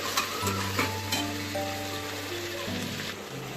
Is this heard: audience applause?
no